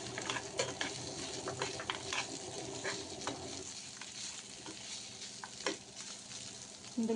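Roasted chicken pieces fry in a pan as fried cashews go in, giving a steady close sizzle with scattered stirring scrapes and light clinks throughout, with no voices.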